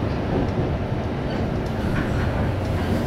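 Steady low rumble and rattling of a moving train in Japan heard from inside the carriage, a continuous clattering drone with no clear voices.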